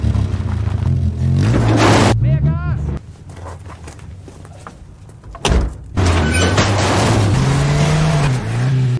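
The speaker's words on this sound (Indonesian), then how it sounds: "sedangkan Leonie akan mengendarai mobil untuk menarik besi tersebut." A car being driven to pull an iron tower in a film scene: an engine revs and accelerates in bursts with a sharp clunk midway, loud and close, mixed with other movie sounds.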